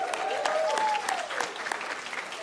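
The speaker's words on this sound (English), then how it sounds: "Clap it up." Audience clapping at an education summit presentation, a steady burst of applause from a crowd lasting the whole moment, fairly close and full, with scattered individual claps standing out.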